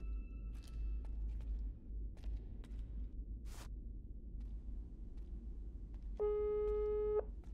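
A telephone busy signal in the video game Psych, a short run of repeated flat electronic tones near the end over a low rumbling game ambience with faint footsteps, with no talk.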